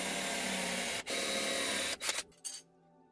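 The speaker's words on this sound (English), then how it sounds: "I cut four aluminum angles and drill holes in them." Drilling holes in aluminum angles with a power drill: a steady, loud whine running near-continuously with a short break around one second, then cutting off in stuttering bursts before silence.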